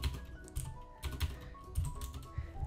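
Fingers type a command on a computer keyboard for a Minecraft Java server, producing quick uneven key clicks in close, clear bursts with no talking.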